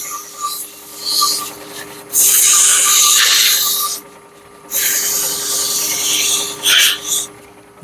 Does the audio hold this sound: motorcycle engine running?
no